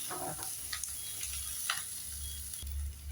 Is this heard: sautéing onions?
yes